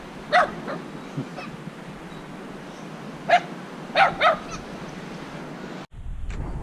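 A dog barks outdoors near the water on Mindoro in the Philippines, giving loud single barks followed later by a quick double bark, over a quiet background that ends with a sudden louder rumble.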